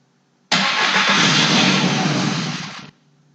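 A car's starter whirs and cranks for a couple of seconds before the engine catches and runs, loud and close, then cuts off; the vehicle has an immobilizer pickup coil fault.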